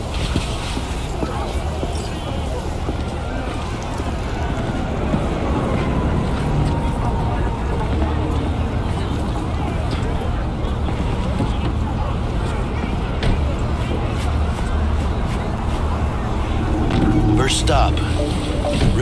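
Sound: car driving in video game Cyberpunk 2077

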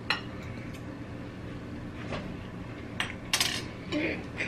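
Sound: spoon scraping MRE food from a dish

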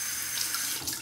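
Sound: rinsing razor under running tap water

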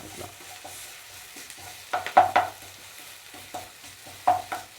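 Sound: ivy gourd (dondakaya) frying and stirring with ginger garlic paste

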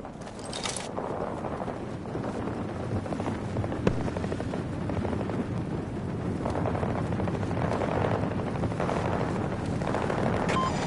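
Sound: extraction aircraft (helicopter) from a video game

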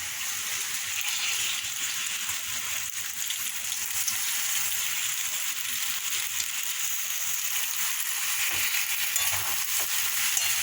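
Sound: stir-frying pasta with vegetables in a pan

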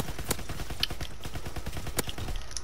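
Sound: gunfire in a shooter video game

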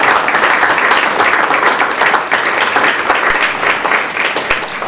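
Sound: applause at a school board meeting

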